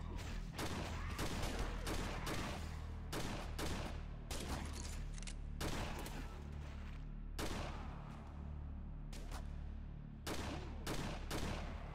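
Repeated firearm shots and bursts from the post-apocalyptic shooter Ashes 2063, coming in dense clusters with brief pauses between volleys over a constant low background drone.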